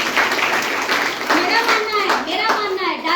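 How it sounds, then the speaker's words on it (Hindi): An audience at a direct-selling business event claps steadily and loudly throughout, a dense wash of hands with a voice speaking over it toward the end. "ताली बजा दीजिए।"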